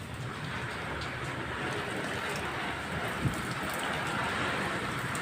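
Heavy rain pours down under dark clouds, a dense, steady hiss of drops on surfaces with one brief knock partway through and no voices.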